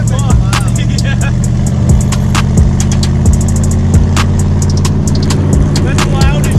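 A 1999-2004 Mustang GT New Edge engine running very loud and close, with a deep, throbbing idle punctuated by repeated sharp blips and pops, and people talking over it.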